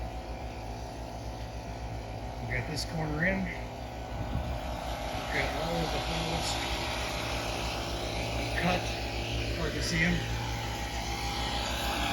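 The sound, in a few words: generator running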